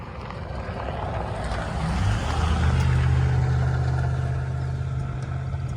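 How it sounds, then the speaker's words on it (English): A car drives past outdoors near a flooded field: a low engine rumble and tyre roar swell to a peak midway, then ease off slowly as the vehicle moves away. "Hang on, I got a car going by."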